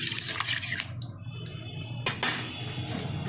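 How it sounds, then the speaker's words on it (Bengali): Water pours into a pan of chital fish curry with potatoes and lentil dumplings, a close splashing hiss in two short bursts separated by a brief lull with light metallic clinks, with no talk. "এখন দিয়ে দেবো এর মধ্যে পরিমাণ মতো জল।"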